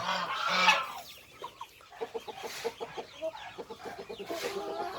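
Shamo and Aseel chickens cluck in short, fairly close bursts, with a louder squawk near the start, followed by a steady run of soft clucks and calls in a coop.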